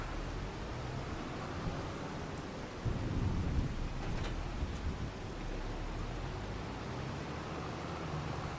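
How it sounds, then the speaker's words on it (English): Rain in the farming game Krustoo Farms, a steady dense hiss of falling rain with a low rolling rumble swelling briefly in the middle, no voices. "it sounds like it's raining, but there's no like actual rain here"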